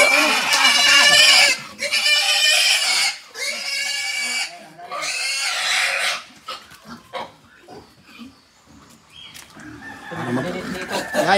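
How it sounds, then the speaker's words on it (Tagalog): Pigs on a Filipino farm squeal loudly in several long, strident bursts up close, followed by scattered grunts and shuffling while people talk nearby. "Para makabuelo yung baboy nila."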